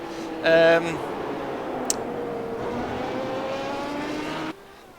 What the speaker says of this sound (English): Listen to this V12.